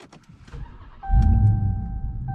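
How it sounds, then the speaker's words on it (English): A 2021 Ram 1500 TRX V8 pickup engine cranks briefly and then catches, settling into a loud, steady idle with a deep rumble and a thin whine above it. "let's start it up and yeah, let it run"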